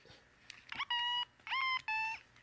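A Power Rangers Lost Galaxy Transmorpher toy gives off a few short electronic tone bursts, fairly quiet and spaced apart, with no talking over them.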